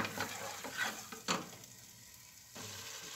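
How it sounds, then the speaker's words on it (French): Finely chopped onion sweating in butter and oil in a pan, with soft sizzling and a few scraping stirs, then a short quiet pause before the sizzle returns. "je vais pouvoir ajouter mon oignon finement ciselé. Et je mélange de façon à bien imprégner de beurre mon oignon"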